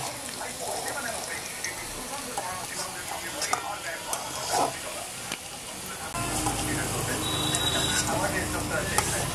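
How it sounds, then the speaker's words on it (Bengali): Potatoes sizzle steadily in hot oil with salt and turmeric for murighonto, a constant frying hiss that grows a little fuller partway through, with faint utensil sounds and a soft voice underneath. "আলু ভাজার সময় নুন ও হলুদ দিয়ে ভেজে নেব।"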